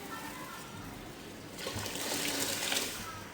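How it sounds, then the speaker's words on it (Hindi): Soaked rice poured into a pot of boiling water for Karachi chicken biryani, a steady watery splash and trickle building from about halfway through over the bubbling boil. "चावल हम इसमें डाल देंगे।"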